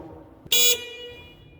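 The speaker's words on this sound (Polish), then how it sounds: "Mamy tutaj oczywiście opcję klaksonu." A single short, loud horn blast on a RiverFox 440 fishing boat, a bright steady tone lasting about a quarter second above a quiet background, with faint ringing after it.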